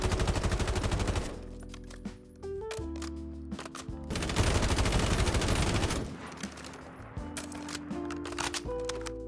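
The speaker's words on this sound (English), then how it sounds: "The Ram 7, based on the TAR-21, got copy and pasted into this game from Modern Warfare 2019." Ram 7 assault rifle, based on the TAR-21, firing in Modern Warfare 3, heard as loud rapid automatic bursts separated by short pauses and mechanical reload clatter, close and dominant throughout.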